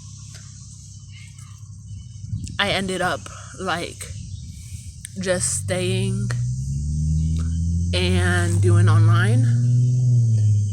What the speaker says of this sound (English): oh cool, cicadas